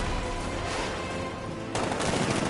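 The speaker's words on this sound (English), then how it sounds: "60mm cannon operational" Tank firing its 60mm cannon in Batman: Arkham Knight, a dense, continuous barrage of loud blasts that swells into a heavier burst about two thirds of the way through, with no voices.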